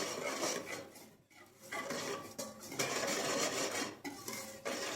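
A spoon stirs liquid vanilla and milk powder together in a bowl for Iraqi kleicha dough, making steady close-up scraping and rubbing against the bowl in several strokes with brief pauses, with no voices.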